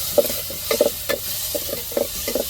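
Ground pepper, cumin, tomato and garlic paste sauté in hot oil for a pepper rasam, with a soft sizzle broken by about half a dozen short scraping stirs, close and moderately loud, with no talking.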